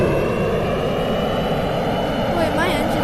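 Steady airplane engine drone from a VR flight game, a continuous broadband roar that holds level throughout, with a brief sweeping whine near the end.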